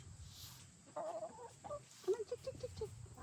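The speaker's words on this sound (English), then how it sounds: "Come on, chickens." Backyard chickens clucking near a coop on a small farm with sheep: a few soft, close clucks, then a quick run of short, evenly spaced clucks over faint background noise.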